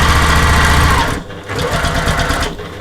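A sewing machine top stitching a fabric travel case runs loud and close with a steady rapid whir, pausing briefly near the middle before resuming.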